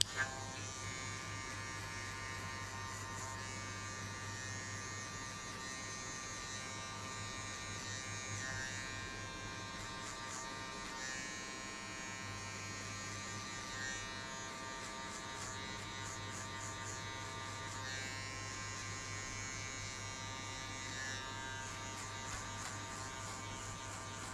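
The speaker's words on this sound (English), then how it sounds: "you start from number one, like one guard, and you cut just only 1 inch around the ears" Electric hair clipper fitted with a number one guard cutting hair around the ears: a steady close-up motor buzz drones without pause, with faint textured variations as it moves through the hair.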